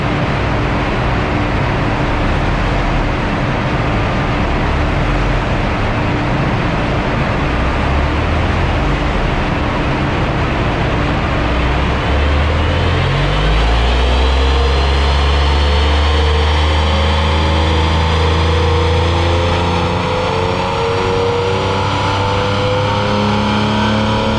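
A Porsche 996 flat-six on a dyno with the stock plenum and air filter, roaring loud and steady as it climbs through a long wide-open pull, then dropping into a lower, rumbling tone as it winds down. No voices.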